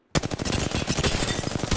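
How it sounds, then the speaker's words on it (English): Automatic gunfire in the battle royale shooter Apex Legends starts suddenly and keeps going as a rapid, loud, close stream of shots for almost two seconds. "I am taking fire."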